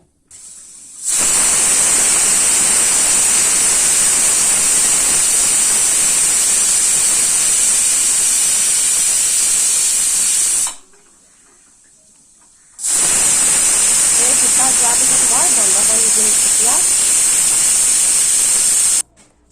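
Steam hisses loudly and steadily from a pressure cooker steaming local fish, a long broadband burst that cuts off briefly, then returns just as strong for several more seconds.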